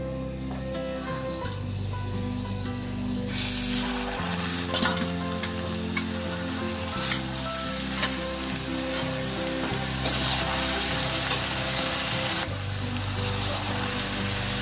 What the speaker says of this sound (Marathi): आता मी यामध्ये चकल्या सोडते.